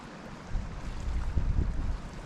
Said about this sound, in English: You have the sound of the water from the reservoir sort of lapping up against the shore